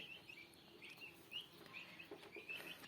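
Faint calls from turkeys in a coop, with soft chirps and clucks scattered over a low, quiet background and no talking.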